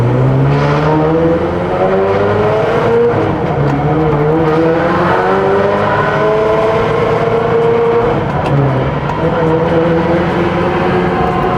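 A straight-piped Ferrari 360 race car engine, a loud, steady roar with a raspy, high-pitched tone that rises and falls as the revs change, continuous and close.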